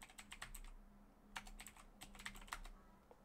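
Quiet bursts of typing on a computer keyboard, quick clustered keystrokes in three short runs separated by brief pauses, close and soft with no talking.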